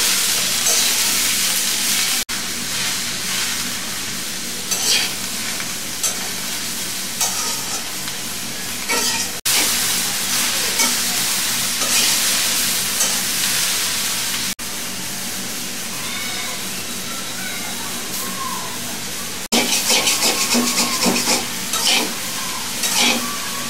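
Cabbage and yardlong beans frying in a pan with green chillies, a continuous sizzle and hiss broken by frequent stirring scrapes, close and steady, with a few brief cuts.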